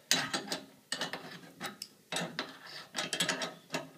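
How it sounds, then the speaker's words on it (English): A wrench tightening the nuts on the mount of a PureWave Quantum 6600 antenna tower: close, clicking mechanical bursts in four separate spells, each with a short rhythmic run of ratchet-like clicks. "go around to each nut and make sure that I tighten it all up"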